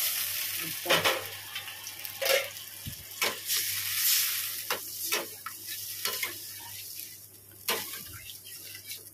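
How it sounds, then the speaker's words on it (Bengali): A little water goes into sizzling, well-sautéed masala in a pan, which is then stirred: a bubbling hiss runs throughout, broken by repeated close scraping strokes and the occasional low knock. "কষানো হয়ে গেছে, এবার জল দেবো, জলের পালা"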